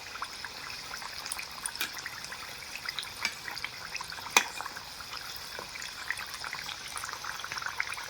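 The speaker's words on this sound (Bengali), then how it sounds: "আর তেলে দেওয়ার সঙ্গে সঙ্গে কিন্তু কত সুন্দর ভেজে একদম ফুলে উঠছে।" Puli pitha fry and puff up in hot oil, giving a steady, gentle close-up sizzle with scattered crackles and one brief sharper pop midway, with no voices.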